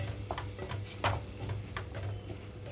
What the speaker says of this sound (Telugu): చట్నీ అంతా తాలింపులో కలిపేసుకుంటున్నాను